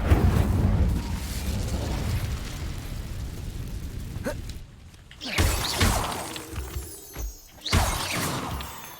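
An Incendio fire spell is cast in Hogwarts Legacy, a dense crackling roar of flame and debris that fades, then several sharp bursts and crashes follow in quick succession, loud and close.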